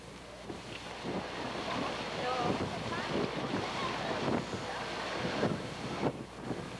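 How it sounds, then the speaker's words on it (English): Wind gusts roar across the microphone with waves washing in the background, a continuous, fairly loud rushing seaside sound. "Today it's windy, I think"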